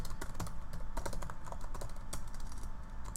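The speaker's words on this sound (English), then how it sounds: "So I'm going to type a note to myself and then hit Save." Steady, quick typing on a computer keyboard as a short note is entered, with a continuous run of close, crisp key clicks over a noisy background.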